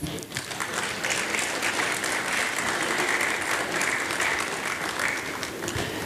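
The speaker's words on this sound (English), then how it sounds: "I thought you were going to clap" Sustained audience applause during a deputy finance minister's speech at an awards event in Ghana, a thick, even patter of many hands at moderate volume, continuous and without speech.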